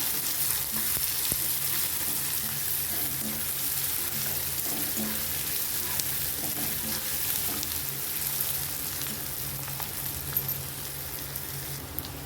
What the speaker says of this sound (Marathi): आपल्याला कांदा छान परतून घ्यायचा आहे आपल्याला